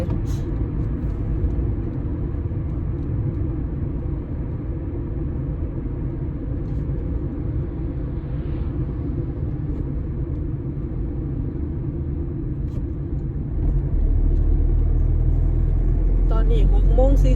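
A car travels along a road at about 50, with a steady low engine and tyre rumble heard from inside that swells louder near the end, while people talk over it.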